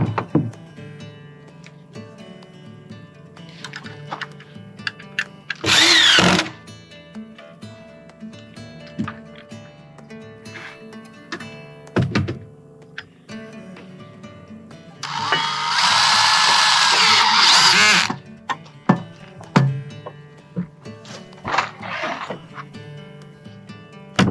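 A power drill, run by a child during a cabin mud room addition build, whirs in two bursts: a short one and a longer sustained run, with quieter knocks and handling noises between them.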